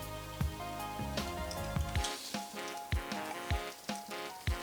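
Bacon frying in oil in a pan, a steady sizzle with repeated sharp pops and spatters spaced through the clip, fairly close and moderately quiet, with no talking.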